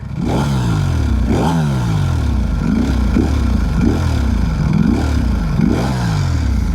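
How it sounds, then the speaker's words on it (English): Ducati Panigale V4R superbike with a dry clutch, its engine blipped repeatedly in sharp rising-and-falling revs, about eight throttle stabs over a steady close, loud mechanical clatter. "You hear that? Got a dry clutch right there."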